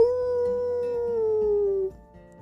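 A single long, wavering howl sustains steadily for nearly two seconds, then cuts off into quiet.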